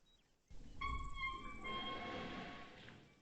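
A helipad fuel switch in Arma 3 turns on with a steady hum of layered, horn-like tones over a low rumble. The tones start after a sudden thump and hold for about two seconds before fading.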